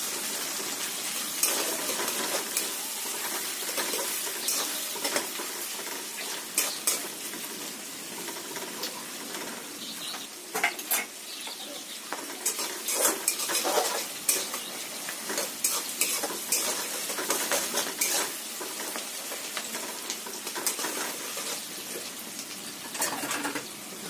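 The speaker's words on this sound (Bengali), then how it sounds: "মশলা ভাজা হবে।" Dried red chillies and whole spices fry in a pan for chicken kosha, giving a loud continuous sizzle broken by frequent metallic scrapes and taps of a spoon stirring against the pan, with no talking.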